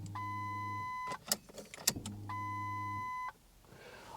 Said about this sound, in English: Now, if I just switch the fuel pump on, you just listen to this.